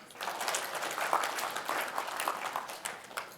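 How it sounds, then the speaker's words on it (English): Audience members clap hands on request during an entrepreneurship leadership class, a moderately quiet burst of scattered clapping that holds for a few seconds with uneven individual claps. "I'd like you to clap."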